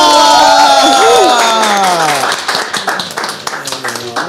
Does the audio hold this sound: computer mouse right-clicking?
no